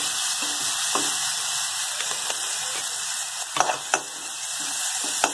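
Green chili paste filling sautéing in a pan for stuffed bread pakoda, a steady close sizzle with a few sharp spatula scrapes and taps, no voices.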